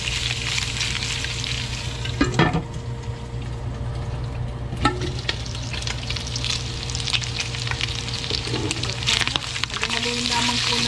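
Pieces of pork belly sizzle and fry in a pan for a Filipino braised dish, with a steady crackling hiss, occasional stirring clatters and utensil knocks, and a constant low hum in the background.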